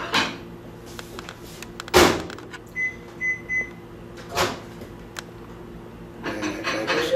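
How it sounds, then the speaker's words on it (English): A microwave oven hums steadily while heating boneless barbecue ribs in a kitchen, with loud door and cupboard clunks and a few short electronic beeps cutting through. "Which is why I'm doing it here in my microwave"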